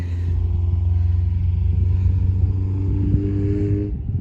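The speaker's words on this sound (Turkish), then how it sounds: "Tabi yolda geçen arabalar var. Sesleri biraz rahatsız ediyorsa kusura bakmayın arkadaşlar." Steady low engine rumble of road traffic, a vehicle passing fairly close and fading out near the end, with no voices.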